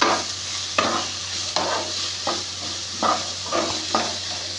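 A salted cabbage mixture is stir-fried in a pan, a spatula scraping and tossing it in regular strokes about every three-quarters of a second over a soft, continuous sizzle, with no talk.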